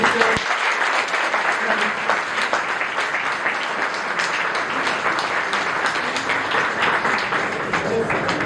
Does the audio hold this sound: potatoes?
no